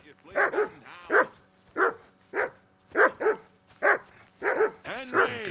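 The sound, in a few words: dog barking in Kingdom Come Deliverance 2 video game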